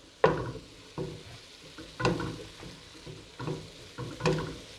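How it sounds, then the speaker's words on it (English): Ground turkey browns in about a tablespoon of vegetable oil in a pan, sizzling steadily while a utensil stirs and scrapes it in four or five distinct bursts, close and moderately loud, with no talking. "So I'm going to brown up my turkey meat first."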